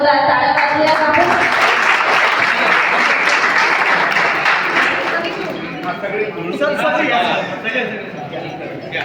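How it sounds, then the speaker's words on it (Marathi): A large audience at a political party gathering in Malegaon claps to welcome honoured guests, a loud dense applause sustained throughout that thins slightly toward the end, with voices mixed in. "एकदा जोरदार टाळ्या वाजवूया आपण."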